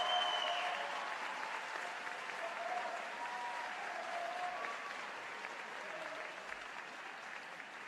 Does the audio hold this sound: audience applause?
yes